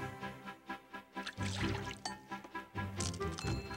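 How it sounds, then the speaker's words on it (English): Cookie ingredients being poured and stirred in a kitchen, with soft trickling and clinking bursts that come in a rhythmic, irregular run under background music. "So Marcella and her grandma began to pour and stir and mix while Raggedy Ann and Andy watched"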